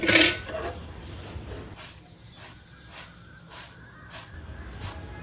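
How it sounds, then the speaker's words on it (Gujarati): A spoon scraping and stirring puffed jowar around a pan in a steady rhythm, about eight even strokes, close and moderately quiet. "કન્ટિન્યુ આ રીતે ચમચા વડે ચલાવતા રહેવાનું છે"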